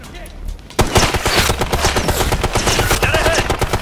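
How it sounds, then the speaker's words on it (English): Dense video game gunfire and explosive bursts from a Ghost Recon Future Soldier battle on Xbox Series X, starting with a quieter lead-in before a sudden loud onset of sustained rapid firing and a frag grenade blast, with voices shouting amid the combat. "He's down! Frag out!"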